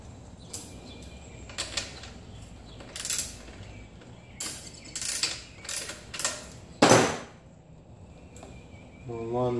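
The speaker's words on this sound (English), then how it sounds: "Go ahead and put this side back on, the washer, the nut." Washer and nut being fitted back onto the rear wheel axle of a child's bicycle, heard as scattered light metallic clicks and ratcheting taps in short bursts, fairly close, with a quick rattling turn near the end.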